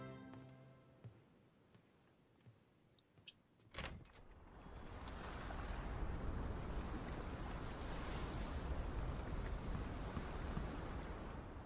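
Ocean waves in a Pokemon Presents trailer swell up after a sudden hit and quiet musical notes, then settle into a loud, continuous rushing surf.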